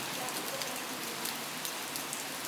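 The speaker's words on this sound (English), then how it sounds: "a little bit of a storm rain sample that was recorded in Kardamili, which is down in the south of Greece" Storm rain pattering on tin roofs in Kardamili, southern Greece, a dense, steady hiss of drops with small metallic pops and sparkle scattered throughout, close and continuous with no voices.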